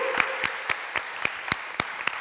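Audience applause at the Wasm I/O 2025 tech conference, a crowd clapping steadily with sharp, evenly spaced claps standing out over a dense wash of hand noise, with no talking.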